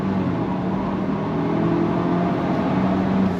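A 2024 Ford Ranger XLT FX4 pulls away on throttle, its 10-speed automatic dropping a gear as a steady mid-pitched engine drone builds, close and fairly loud.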